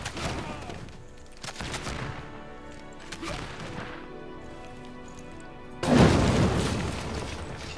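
Units in Civilization VI fire on an enemy city, giving several booming volleys of gunfire with a loud crash near the end and quieter gaps between the shots.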